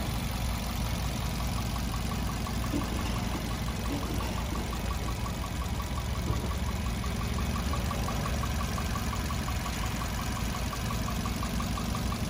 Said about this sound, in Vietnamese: Tiếng máy nổ rất là êm, rất là tròn tiếng.